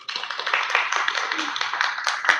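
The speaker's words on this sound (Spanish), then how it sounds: "Un aplauso para nosotros" A small group applauds itself during a leadership talk, a brief burst of hand clapping heard fairly close, thin and hissy, with a louder clap near the end.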